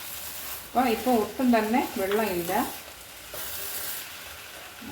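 Biryani being stirred in a pot, with a soft scraping and sizzling bed that continues quietly after someone speaks over the first half.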